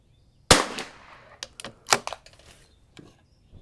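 A single rifle shot of Eley ammunition from a Vudoo rifle at an outdoor range, first cold-bore shot of the day, a sharp loud crack followed by a decaying report and a few faint clicks and handling noises.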